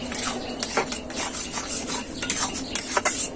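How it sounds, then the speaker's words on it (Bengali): Semolina and milk for toast biscuits being stirred in a pan, a spoon clinking and scraping in quick irregular strokes against the metal, close by, with a light sizzle underneath and no speech. "খুব ভালো করে নেড়ে চেড়ে নেবো ডোটাকে"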